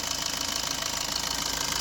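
A 2013 Maruti Swift diesel engine idles close up, a steady even rattling hum with a fast regular knock and no other sounds over it.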